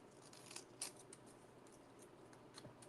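Scalloping scissors cutting along the edges of journal paper, producing several short, soft crisp snips at irregular intervals, close by and quiet with no talking.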